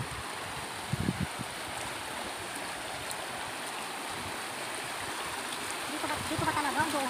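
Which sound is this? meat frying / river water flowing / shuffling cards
river water flowing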